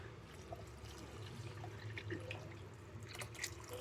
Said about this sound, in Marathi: आता आपण हे जे पाणी आहे ते ह्यात टाकूया